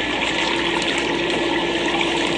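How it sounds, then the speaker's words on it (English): Water churns and bubbles in a hot tub with a loud, steady rushing fizz that holds throughout. "Bubbles in the hot tub."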